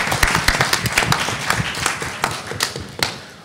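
Audience applause at a Congressional Black Caucus legislative conference panel honoring Congressman Hoyer, a moderate, steady patter of clapping that tapers off toward the end.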